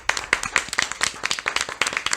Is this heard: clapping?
yes